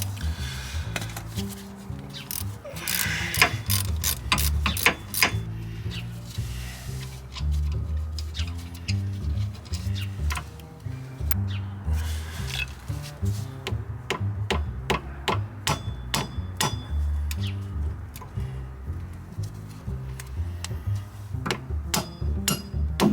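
Repeated sharp metallic taps and clanks from a hand tool striking a brake part on a Toyota Celica ZZT231 during a rear drum-to-disc brake upgrade, in irregular bursts, close and fairly loud.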